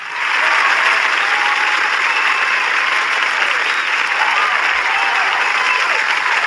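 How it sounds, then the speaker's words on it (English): A steady, loud round of applause, dense continuous clapping that starts abruptly and holds evenly throughout with no voices over it. "ladies and gentlemen, give her a round of applause"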